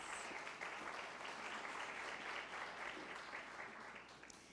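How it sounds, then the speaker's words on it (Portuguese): Audience applause at a talk on human rights and mental health, a steady wash of many hands clapping that holds evenly and tapers slightly at the end, with no voices over it. "Uma salva de palmas."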